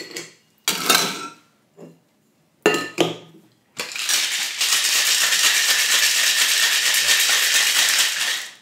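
Beer cocktail with bitters shaken hard in a cocktail shaker: a few short rattles and clinks of ice, then a loud, steady, continuous shaking that runs for several seconds.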